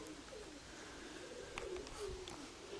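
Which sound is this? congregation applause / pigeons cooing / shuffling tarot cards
pigeons cooing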